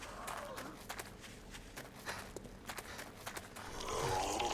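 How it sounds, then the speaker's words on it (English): Running footsteps of a feral pursuer in a video game: faint, uneven thumps patter close behind amid game noise, with a low roar swelling near the end. "Still behind me, I can still hear the bloody footsteps."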